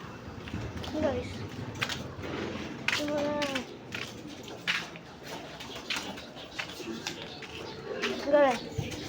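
Pigeons coo softly in a few short calls amid household background noise, while people talk and call out nearby over them.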